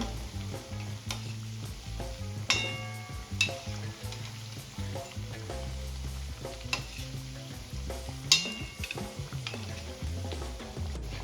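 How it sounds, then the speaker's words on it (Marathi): Palak vadi (spinach fritters) frying in hot oil as they are turned over, a steady sizzle with scattered stirring and clinking of a utensil against the pan, close and continuous, no talk. "आता आपल्याला इथे छान गोल्डन कलर येईपर्यंत आलटून पलटून वड्या तळून घ्यायच्या आहे"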